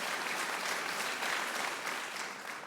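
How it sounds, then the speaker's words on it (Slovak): At the Zlatý Amos 2024 award ceremony in Slovakia, an audience gives sustained applause. Dense, even clapping fills the room without a break. "Tak, jeden obrovský potlesk."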